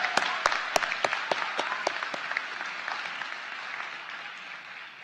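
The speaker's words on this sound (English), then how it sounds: "Please give her another round of applause." Applause from a commencement audience for a distinguished alumna award recipient, opening with loud distinct claps that thin into a steady, softer patter of many hands fading over five seconds.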